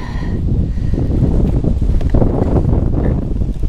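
Strong gusting wind roaring across the microphone while kayak fishing on a lake from a Jackson Kayak Big Tuna, a loud, steady low rumble with no speech.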